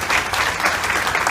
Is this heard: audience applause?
yes